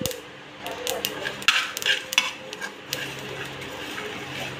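Spices dry-roasting in a pan give off scattered crackles, pops and scraping clinks of a utensil against the metal, intermittent and close with a faint background hum.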